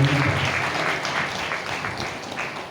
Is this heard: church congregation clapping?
yes